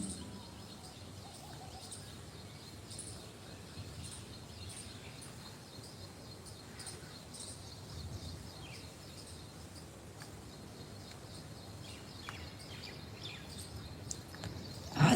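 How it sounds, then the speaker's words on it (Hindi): Birds chirping outdoors, including a koel, faint and distant over a steady insect-like hiss, with sparse calls scattered throughout. "आसपास से आती हुई आवाज को सुने, चिड़िया की आवाज, कोयल की आवाज"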